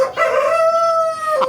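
A hen recovering from heatstroke gives one sustained, nasal crowing call, close and loud, with a brief catch at the end.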